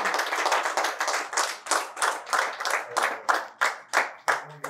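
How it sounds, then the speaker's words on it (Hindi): A live audience at a poetry recitation event claps in rhythmic, fairly loud bursts, the applause starting dense and settling into distinct, evenly spaced claps toward the end, with no talking over it. "तो सबसे पहले आप लोग अपने लिए एक बार 2 ताली बजाइए।"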